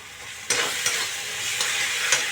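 Spice paste with whole green chillies frying in a pan, a loud close sizzle with several sharp stirring scrapes spaced through the short burst.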